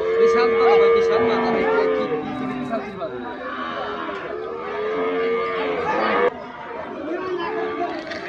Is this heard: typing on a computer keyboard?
no